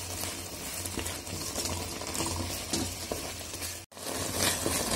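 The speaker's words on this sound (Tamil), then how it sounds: "நல்லா கிளறி விட்டுக்கிட்டே இருங்க." Coconut and jaggery kozhukattai filling being stirred in a pan, a steady scraping and bubbling sizzle close by throughout, with a brief dropout near the end.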